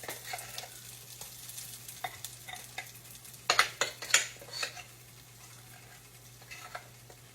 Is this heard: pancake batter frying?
yes